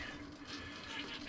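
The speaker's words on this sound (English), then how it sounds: "you've got holes all the way around, so it flushes more like a residential" Dometic 310 RV toilet flushing, water rushing steadily through a ring of holes around the bowl rim, a brief close continuous wash with no talk.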